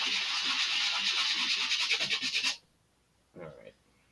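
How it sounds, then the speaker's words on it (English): Close, rapid scratchy rubbing of sandpaper sanding burrs off a model rocket part for a couple of seconds, stopping abruptly, followed by a short second rasp after a pause. "so sanding this off, those burrs looked like they went off almost right away."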